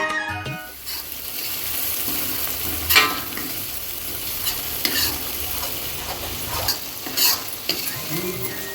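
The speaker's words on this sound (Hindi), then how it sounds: "तो चलिए मसालों को अच्छे से पका लेते हैं, क्योंकि इन मसालों को पकाने में टाइम लगता है।" Spices with tomato paste, salt and turmeric fry steadily in a pan, a continuous close sizzle broken by repeated scraping stirs, with no talking over it.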